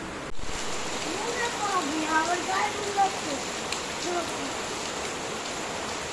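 Heavy rain pouring over a village: a constant, even wash of falling water and droplets, with faint traces of a voice in the background.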